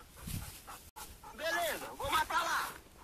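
Hunting dogs pant hard and whine close by during a wild boar hunt outdoors, rapid breathy panting with a few whimpers, while people talk nearby.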